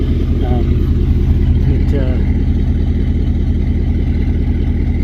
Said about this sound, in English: Exhaust sounded good, nice thump to it.